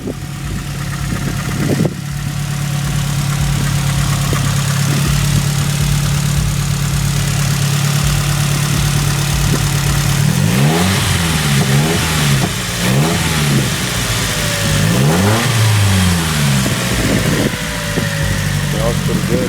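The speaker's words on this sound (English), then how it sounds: "This is a high-performance exhaust." A Nissan 240SX fitted with a loud aftermarket drifting exhaust idles with a deep, steady burble, then is revved repeatedly in sharp rising and falling bursts, close and loud, as people talk nearby.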